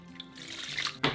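Sugar and distilled white vinegar poured into a pot of drained zucchini for relish, a short soft trickle of liquid swelling briefly before a louder splash at the end, close by with no talking.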